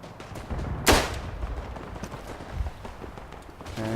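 Artillery fire in the Verdun game, one loud close blast early, then scattered distant booms and rumbles with a faint voice at the very end.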